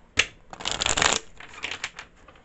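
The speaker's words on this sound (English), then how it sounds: "I'm going to get the killer cards out." Tarot cards are shuffled close by in a quick riffling burst that tapers into scattered softer shuffles and taps.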